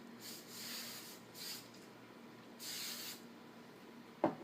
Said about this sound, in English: And then I will spray it again